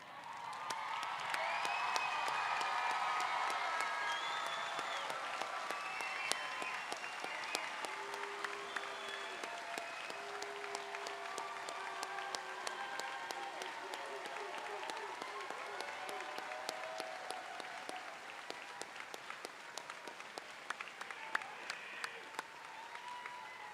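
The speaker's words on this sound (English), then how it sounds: "let us stand and applaud the graduates" A graduation ceremony audience stands and applauds the graduates, sustained dense clapping that swells early then holds steady at moderate level, with scattered voices and cheers mixed in.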